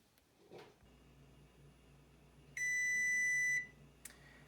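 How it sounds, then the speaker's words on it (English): An electronic kitchen timer gives one sustained, piercing beep lasting about a second in a quiet kitchen as peanut butter blossom cookies bake, with faint handling noises before and after. "my timer is done"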